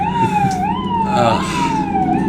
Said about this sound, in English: the truck is passing outside. It's an ambulance truck